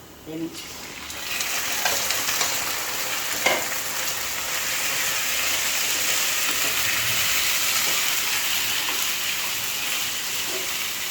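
Onions fry in oil until browned, a steady close sizzle with a few faint stirring knocks, continuing unbroken throughout.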